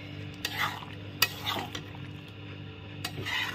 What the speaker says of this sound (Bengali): এই দেখো খুন্তির মধ্যে ঘি নিয়ে নিয়েছি, ঘি দিয়ে দিলাম।